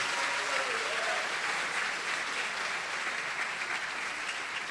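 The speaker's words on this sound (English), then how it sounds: "Give them a round of applause, everybody." An audience at the 12th Annual Frosty Awards Ceremony breaks into dense, sustained applause that runs the whole stretch at an even, fairly loud level, with no distinct voices on top.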